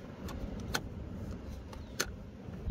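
Two sharp mechanical clicks, about a second apart, as the front trunk release of a Ford Mustang Mach-E is pulled twice inside the quiet car interior, with faint lighter ticks around them.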